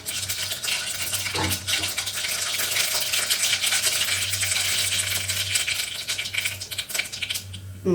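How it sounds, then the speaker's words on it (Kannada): Mustard seeds spluttering and popping in two to three spoons of hot oil in a home kitchen, a dense, steady crackle of tiny pops running throughout with a low hum underneath, no talking. "ನನಗೆ ಸಾಸಿವೆ ಸಿಡಿಸ್ಬೇಕು, ಈ ಥರ ಸಿಡಿಬೇಕು"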